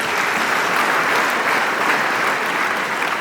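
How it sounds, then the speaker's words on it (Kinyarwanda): A church congregation breaks into loud, dense applause to welcome a member, continuous clapping from many hands with no pauses. "Reka twakira amashyi cyane."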